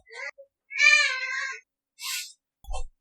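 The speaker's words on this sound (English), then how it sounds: "she is a very loud cat who makes old lady noises" A loud house cat lets out a few drawn-out, wavering meows, one long and harmonic-rich, with short gaps and a brief low thump at the end.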